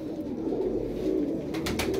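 Pigeons coo in a low, soft repeated murmur close by, with a brief flutter or scuffle near the end and no talk.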